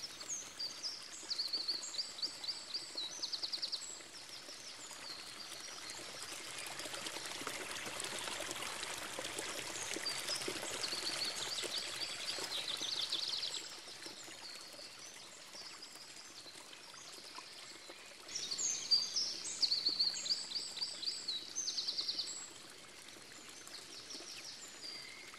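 A river flows steadily through a Natura 2000 site in Finistère, its broad rushing water running throughout, while small birds sing and chirp in bursts close by, strongest near the start and again toward the end.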